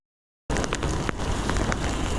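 Heavy rain pours down steadily during a motorbike ride toward a village, a dense, loud hiss that starts abruptly after a brief silence and continues without letup.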